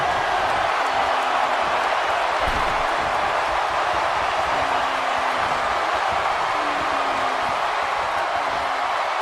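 Huge arena crowd of over 77,000 in WWE 2K19, a steady dense roar of cheering and murmur that runs loud and unbroken throughout with no distinct claps.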